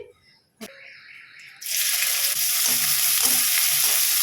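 Oil in a wok bursts into a loud, steady sizzle after a few quiet kitchen knocks, with occasional stirring clinks over the continuous hiss, no talking.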